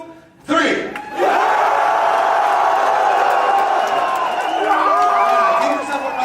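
A crowd at a mindset seminar in Germany erupts in loud cheering, whooping and yelling on cue, a sustained roar of many voices close and full for several seconds after a brief quiet start.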